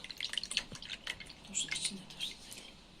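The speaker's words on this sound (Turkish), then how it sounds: "Beyaz tülbentimizin içerisinde suyunu iyice sırkıtıyoruz." Whey drips from labneh strained in white cheesecloth, a series of soft, irregular close droplet taps and small splashes at low level, with a faint murmur of voices in the background.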